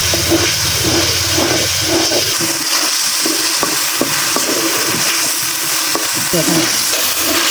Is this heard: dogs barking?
no